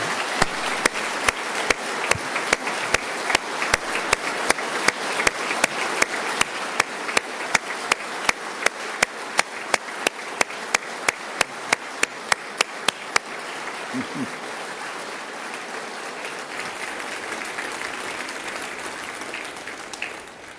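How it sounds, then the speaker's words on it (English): Applause from a large audience on the Ohio House floor at the State of the State address: steady, dense clapping that carries on for a long stretch, then tails off into a softer murmur of hands fading out. "Will you please give her a round of applause?"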